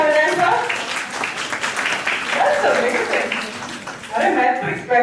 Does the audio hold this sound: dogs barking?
no